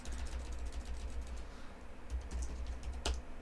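Quiet clicks of typing on a computer keyboard come in two short bursts of rapid keystrokes separated by a brief pause, ending with one sharper tap.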